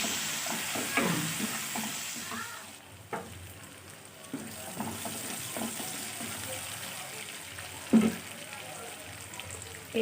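Bhangun fish sizzling in a pan as it is stirred, a steady low hiss of frying with occasional scraping clatters of the spoon and soft knocks, fairly quiet throughout.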